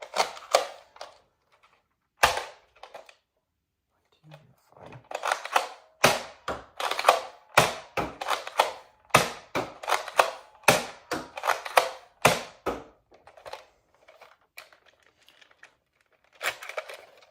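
A Nerf Elite Strongarm blaster fires X-Shot foam darts, sharp close clicks and thumps repeating in quick, uneven bursts with rustling handling noises in between, fairly quiet overall.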